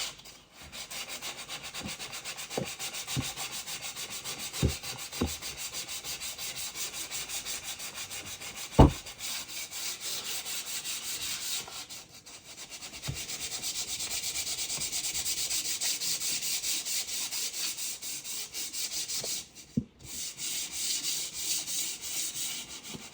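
Hand sanding of a lacquered window with 220-grit sandpaper, a steady close scratchy rubbing that runs in long continuous strokes, broken by a few sharp knocks and short pauses.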